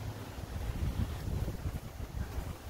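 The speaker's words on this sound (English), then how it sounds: "Haven't had wind like this in a long time." Strong high winds blow steadily past a microphone outdoors near rainbow eucalyptus trees, producing a continuous loud rumbling roar with gusty swells and no voices.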